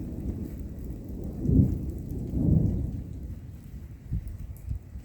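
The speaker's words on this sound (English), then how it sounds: "I'm also trying to figure out why the heck we're having a thunderstorm at 45 degrees." Thunderstorm in cold weather at about 45 degrees, with steady rain and deep rolling rumbles of thunder swelling twice and fading, then a few softer low thumps, heard outdoors without talk.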